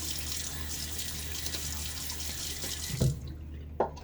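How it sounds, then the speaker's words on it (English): Water runs steadily from a bathroom sink faucet, then two quick splashes near the end as water is scooped onto a face before a wet shave. "I'm going to splash a little water on my face anyway."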